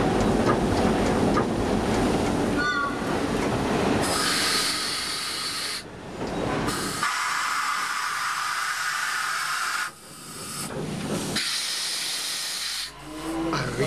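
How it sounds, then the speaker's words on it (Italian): Steam locomotive 640.143, built by Breda in 1911, shunting over station points, with wheels squealing in repeated high screeches over a steady steam hiss and rolling rumble heard from the cab. "Inizia la manovra del salto della locomotiva."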